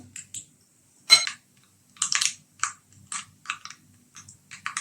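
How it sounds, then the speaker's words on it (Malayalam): Mustard seeds spluttering in hot coconut oil: sharp, scattered pops and crackles arriving in irregular bursts against near silence, loud and close. "കടുക് പൊട്ടി വന്നിട്ടുണ്ട്"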